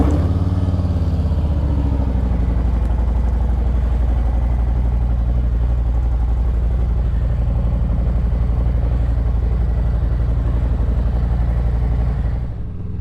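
Steady motorcycle engine drone while riding, with a constant low rumble and mild clatter that stays loud and close throughout, easing off slightly at the very end.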